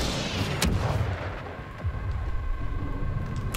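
A tank cannon fires in the Star Wars Battlefront 2 video game, one booming close blast trailing into a rumbling, crackling battlefield din with a few sharper distant reports.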